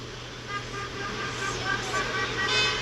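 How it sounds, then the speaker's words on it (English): Car horns toot intermittently amid steady street traffic on a busy road during a roadside protest, moderately loud under a continuous roar of passing vehicles. "And everybody honking."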